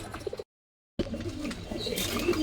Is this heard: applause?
no